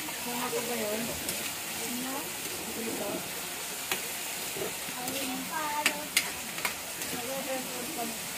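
Squashed tomatoes fry in a pan with a steady close sizzle and hiss, a few utensil clicks, and a voice talking over the cooking.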